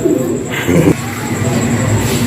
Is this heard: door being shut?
no